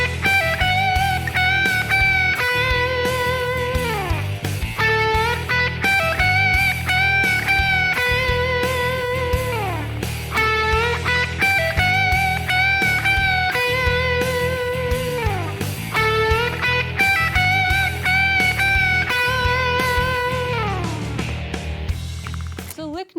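Electric guitar lead phrases with bends and sustained notes played over a full backing band with drums and bass, continuous and loud.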